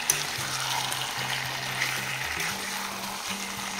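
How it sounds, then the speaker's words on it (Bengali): Boiled mutton being braised and fried in a pan, a steady close sizzle with faint stirring scrapes over a low background hum, no one speaking. "তো দেখো বন্ধুরা মাংসটা কষানো হচ্ছে"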